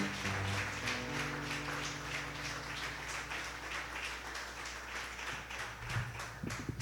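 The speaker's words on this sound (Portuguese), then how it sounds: "Vamos aplaudir ao Senhor, irmãos" A church congregation at a communion service claps in a steady rhythm, dense and continuous, with music tones running underneath the clapping throughout.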